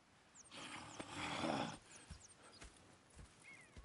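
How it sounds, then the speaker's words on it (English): Horses in the Red Dead Redemption 2 video game, a loud neighing whinny in a rising burst followed by a few hoof clops and faint game ambience, with no talk. "Go check the horses are ready."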